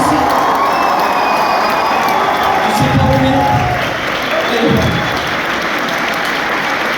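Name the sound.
audience cheering and applauding for Mathis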